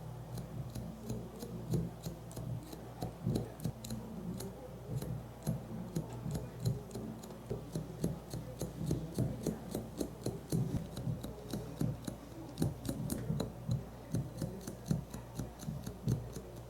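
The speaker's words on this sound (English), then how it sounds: "We're gonna cut about an inch from the front." Scissors snip steadily through curly hair during a low taper haircut, with rapid, close metallic clicks repeating throughout and no talking.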